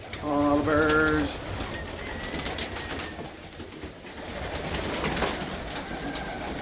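Racing pigeons coo in a loft, a near burst of throaty cooing at the start followed by softer calls and fluttering amid a busy bird-filled background.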